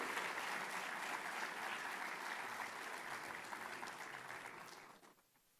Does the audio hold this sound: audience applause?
yes